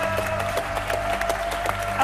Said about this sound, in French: Applaudissements aux deux Fantastics.